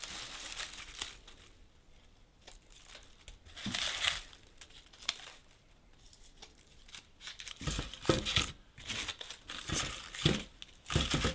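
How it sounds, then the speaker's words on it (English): Dry onion tops being trimmed during an Alaska garden harvest: close, crisp crinkling and papery tearing in irregular bursts, louder toward the end, with no speech. "take your onion tops and actually trim them"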